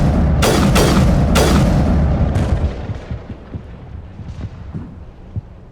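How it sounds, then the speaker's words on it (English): Several heavy blasts in Mass Effect, three big booming explosions close together at the start, then a quieter one, followed by scattered distant pops and rumbling as the noise fades. "Something else exploded there"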